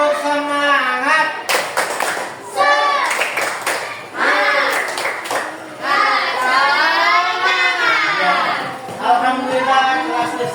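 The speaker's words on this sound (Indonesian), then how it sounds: "yuk kita tepuk sekali, tepuk semangat, tepuk semangat" A classroom group claps a rhythmic spirit clap together, quick bursts of clapping that are mixed with children's and a teacher's chanting voices throughout, close and lively.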